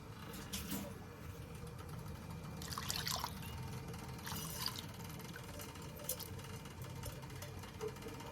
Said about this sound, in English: I'm putting hot water instead of cold